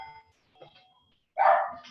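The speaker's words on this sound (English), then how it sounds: "dogs in the background barking." A dog barks in the background, one loud bark burst after some faint quieter sounds, heard alone without talk.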